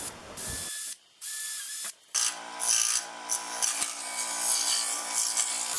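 A scroll saw blade cuts out the inner sections of small wooden letters, each opening threaded through a drilled hole. A steady, fairly loud buzzing rasp runs with several short stops and restarts, and no one speaks.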